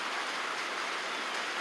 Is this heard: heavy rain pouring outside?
yes